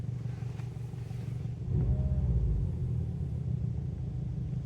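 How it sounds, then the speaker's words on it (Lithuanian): A VW Jetta 2-litre petrol engine with a knocking fault idles with a low, rough rumble and a clattering, diesel-like knock, swelling a little louder partway through; no one speaks. "Dirba kaip dizeliukas, nors čia yra 2 litrai benzinas."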